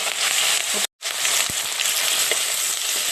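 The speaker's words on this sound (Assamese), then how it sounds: "গৰম হৈ গ'ল, মাছ দি দিছোঁ।" Fish coated in salt and turmeric fries in hot oil, a loud, dense sizzle that runs throughout, broken only by a very short gap and a few soft clicks.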